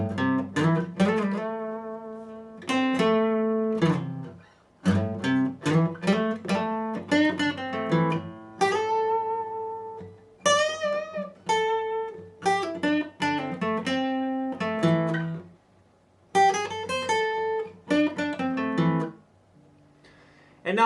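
Solo electric guitar plays the first four parts of a guitar solo at full tempo, a run of quick picked single-note phrases broken by a few short pauses, close and clear, with no voice.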